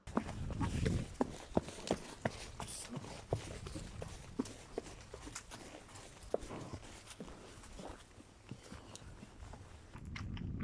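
Horse hooves on a forest floor, clip-clopping through halts, trot and walk, with irregular close impacts shifting in pace over a steady outdoor background.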